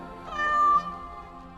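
A cat in the Dragon Age: Origins role-playing game lets out a single clear, drawn-out meow, close and distinct against a low game ambience.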